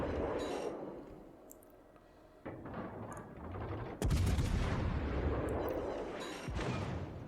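Naval ship guns fire in the video game World of Warships: Legends, aboard the Tulsa premium ship. A few heavy, deep booms land at irregular intervals, each with a rumbling tail over ongoing battle noise.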